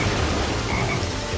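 A frog croaks in the forest stage of the video game Sonic Heroes: a loud, close croak over a continuous wash of ambient game sound, with no talking.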